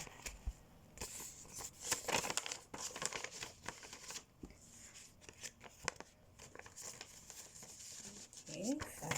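Paper crinkles and rustles as a cash budgeting envelope is handled, with uneven bursts of crumpling and shuffling, close and fairly quiet, while a person talks at times.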